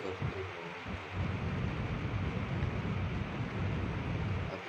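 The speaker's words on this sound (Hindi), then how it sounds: "अभी भी बारिश का साउंड आ रहा है।" Steady rain pours down close by, a dense, even hiss with low rumbling wind gusts underneath, continuing without a break for several seconds.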